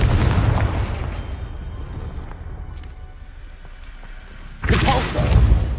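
An explosion from the Confringo fire spell in the video game Hogwarts Legacy: a booming blast fades into a dark rumble, then a second heavy burst hits loud and close near the end.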